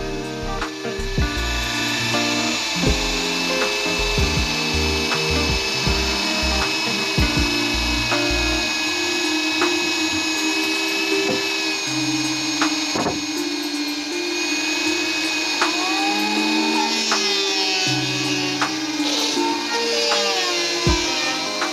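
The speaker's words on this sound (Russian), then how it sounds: "И вот так вот каждый брус в вашем доме сначала чертится, потом пилится." A power saw cuts into a heavy 200 by 200 wooden beam for a timber house, with a loud, sustained motor whine and grinding cut running close throughout, marked by irregular bumps and shifts in pitch.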